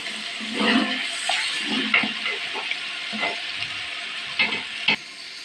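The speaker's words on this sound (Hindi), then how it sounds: "टमाटर ग्राइंड करके डालें" Ground tomato is poured into a hot frying pan for aloo matar pulao, setting off a bubbling sizzle with irregular spatters and stirring, close and moderately loud.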